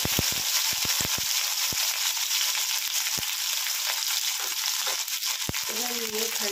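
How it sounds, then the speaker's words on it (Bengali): Chopped okra hits hot oil with black cumin in a smoking wok, a loud, bright, continuous sizzle punctuated by sharp pops and clacks, with a voice briefly heard at the end. "এবার কিন্তু আমি এই যে কেটে রাখা ভেন্ডিগুলো সব কিন্তু এই তেলের মধ্যে দিয়ে দেবো।"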